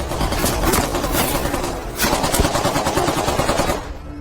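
Gunshots ring out in a film scene as a rapid series of loud, sharp cracks. They come in two dense bursts with a low rumble underneath.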